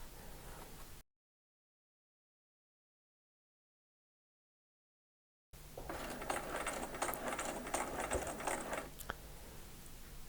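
Home sewing machine stitching quilting fabric for an eight-point star, a steady mechanical whir running for a few seconds after a stretch of silence, with a short earlier burst at the start.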